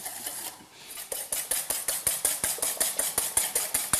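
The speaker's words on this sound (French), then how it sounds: "Je verse le sucre sur les œufs et je vais avec un fouet mélanger pour blanchir" A metal whisk beating sugar into eggs in a bowl for a clafoutis batter, making quick, regular scraping strokes that repeat in a steady, brisk rhythm, close and clear with no talking.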